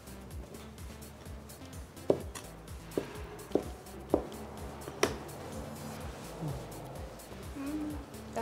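A knife cuts through a breakfast omelette for a salad, landing several sharp taps on a board at uneven intervals under a low background murmur, with a voice speaking faintly nearby.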